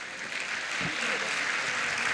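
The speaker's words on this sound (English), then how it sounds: "I want you to give yourselves a round of applause" A crowd applauds steadily, a dense wash of clapping filling the room at moderate distance, with a brief low voice at the start.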